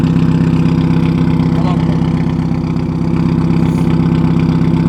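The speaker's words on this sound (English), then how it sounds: "it doesn't even sound like a Subaru anymore" A Subaru engine fitted with Tomei exhaust headers idles loudly nearby, a steady, deep, throbbing rumble with an even pulse that continues throughout.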